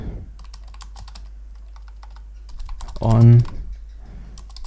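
Rapid keystrokes on a computer keyboard type out a chatbot prompt, light clicking throughout with a brief spoken word in the middle.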